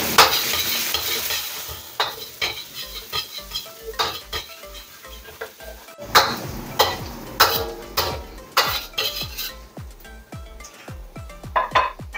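Onion stir-fried in a pan with garlic and ginger for beef and broccoli, sizzling under repeated loud metal utensil scrapes and clacks in an irregular rhythm, close up, with no talking.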